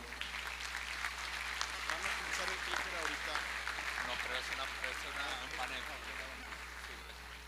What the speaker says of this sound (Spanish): despidámosla con un fuerte aplauso